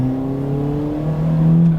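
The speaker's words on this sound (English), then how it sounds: "It really picks up once you like get into that VVTI." A Toyota Matrix XRS engine revs up into its VVTL-i lift mode, a loud, close, steady droning note that climbs in pitch and grows slightly louder toward the end.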